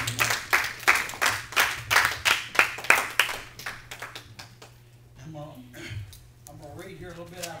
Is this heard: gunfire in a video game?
no